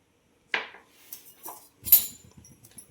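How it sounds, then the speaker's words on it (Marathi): A metal kadai is set down on a gas stove in a home kitchen, giving one sharp clank followed by a few lighter metallic knocks and clinks, close and fairly quiet, without talk. "आता आपण गॅसवर एक कढाई ठेवलेली आहे, त्यामध्ये आता तूप घालून घेऊया।"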